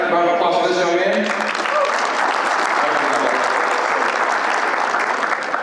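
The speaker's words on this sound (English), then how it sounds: "Round of applause for this young man." Loud, sustained audience applause fills the room at a lawn care business event, steady clapping from a large crowd running throughout after a brief voice at the start.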